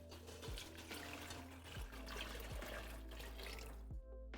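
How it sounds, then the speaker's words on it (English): Chicken stock poured into a pot for chicken pozole, a steady watery rush and trickle running throughout with a few low knocks, fairly close and with no talk. "So now I'm going to pour in our chicken stock."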